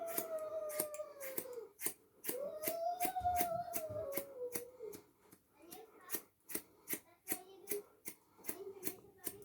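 Scissors snip in a quick, irregular series of sharp clicks while cutting curly hair at home, close and distinct; a voice talks over the first half, then the snipping continues alone.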